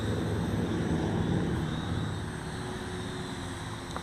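Air Hogs Star Wars speeder bike toy quadcopter with a foam body and prop guards flying outdoors in wind, a continuous buzzing propeller drone that fades slightly as it moves away.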